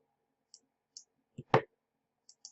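A few faint, sharp computer mouse clicks sound close by in a quiet room, with one fuller thump partway through.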